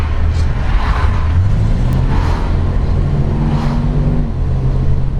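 A 1966 Ford Mustang Coupe with a 289 V8 and automatic transmission driving, a loud steady low engine rumble heard from inside, with a rising tone as it accelerates.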